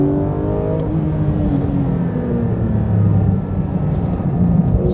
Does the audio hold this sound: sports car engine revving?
yes